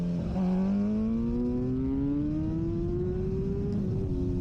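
BMW M1000RR superbike on track at Cadwell Park, engine note rising steadily in a short sharp burst of acceleration in second gear, loud and close from on board, with a rough high-revving drone and no voices.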